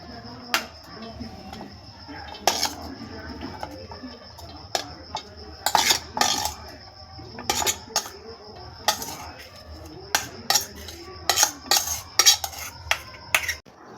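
Sago being stirred and mashed in a pot of thickening milk for payesh, with irregular metallic clinks and scrapes of a spoon against the pot over a quiet background.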